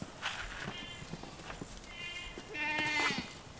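Several goats bleat in wavering cries while being herded into a corral, one louder and closer near the end, over faint footsteps and shuffling outdoors.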